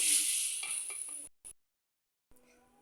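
Chana dal goes into a hot pan with a bright sizzle that fades within about a second, followed by a short scrape, then near silence.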